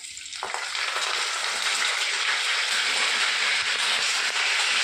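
Garlic and curry leaves fry in hot oil, a loud steady sizzle that swells in within the first half second and holds without a break to the end.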